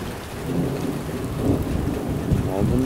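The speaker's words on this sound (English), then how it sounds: "That's the heart of the storm." A strong thunderstorm over Hampton Roads brings low rolling thunder rumbling under steady heavy rain, a continuous wash of noise with swelling low booms.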